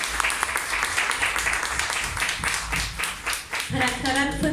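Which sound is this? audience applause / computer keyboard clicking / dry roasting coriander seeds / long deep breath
audience applause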